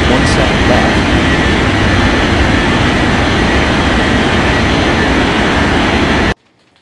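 An airliner's jet engines roar steadily at full takeoff power in an air traffic control game at Capeville City International, a loud, unbroken broadband rumble that holds constant for about six seconds and then cuts off abruptly.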